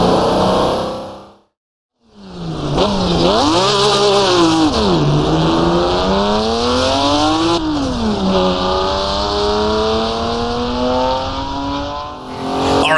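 A vintage race car in the Assetto Corsa racing game, its engine loud and close as it revs up through the gears, dips, then climbs again in long sweeping pitch rises after a brief cut near the start.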